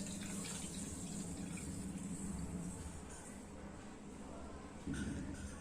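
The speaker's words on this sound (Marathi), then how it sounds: "असं आपण थोडं असं हलवत राहायचं आणि ही अशी धुवायची आहे." Water runs steadily as poppy seeds are rinsed in a strainer, with a continuous close splashing flow and a brief louder gush near the end.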